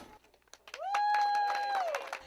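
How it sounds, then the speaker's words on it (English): Sirens and scattered clapping from a huge crowd in Hollister welcoming home a severely wounded Army sergeant returning from Afghanistan; a rising, wailing siren tone dominates over faint, sporadic applause. "Sirens and applause to welcome a hero returning from war."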